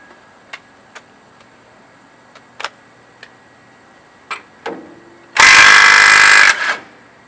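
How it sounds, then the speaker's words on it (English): Pneumatic impact wrench running a primary clutch bolt in on a vehicle: a few faint ticks and taps, then a single loud buzzing burst about a second long with a brief tail. "I'm going to run it in with the impact."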